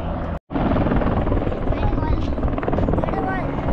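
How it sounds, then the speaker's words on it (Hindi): Two helicopters come down onto the main helipad at Kedarnath in the Himalaya, their rotors roaring loud and close in a continuous wash, with a brief cut near the start and a voice talking underneath. "और देख लीजिए इस समय दो हेलीकॉप्टर इस समय उतर रहे हैं हेलीपैड पर।"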